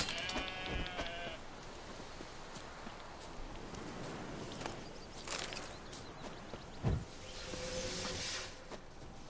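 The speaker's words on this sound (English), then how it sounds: "About to kill me some sheep." Sheep bleat in The Witcher 3, a harmonic bleat at the start and another later over a busy game ambience with hooves clip-clopping, rustling and occasional thumps.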